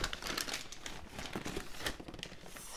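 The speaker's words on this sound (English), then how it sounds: "So now when we open the box here, it has tissue paper" Tissue paper crinkles and rustles in irregular bursts, close by, as a shipped box holding a potted variegated Epipremnum pinnatum is opened.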